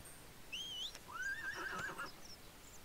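A horse whinnies twice in the video game ArcheAge, a rising then wavering high neigh that is loud, close and alone, with no talk over it.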